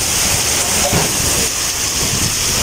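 Heavy typhoon rain pouring down in Tagaytay, Philippines, a loud, dense, continuous hiss of rainfall close by, with faint voices underneath.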